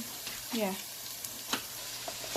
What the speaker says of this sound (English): Just currently frying the onions.